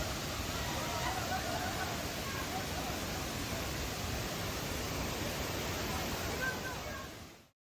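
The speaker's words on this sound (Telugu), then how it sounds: "As this is సూర్మనే water falls." Surmane waterfall near Kalasa in monsoon season gives a constant, dense rushing roar that fills the scene evenly, with faint crowd chatter blended underneath before it fades out.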